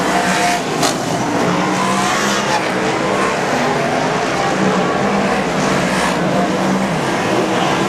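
Superstock race cars lapping a track at a night championship meeting, a dense continuous roar of engines from several cars at once, with tire squeal mixed in and no letup.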